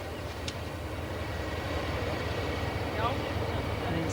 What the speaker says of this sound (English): The shunting train, linking the smaller centres,